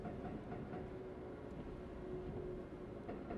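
Train running in the Densha de Go! Hashirou Yamanote Sen driving game, a steady low rumble of rolling wheels and motor with a faint sustained tone, continuous and without talk.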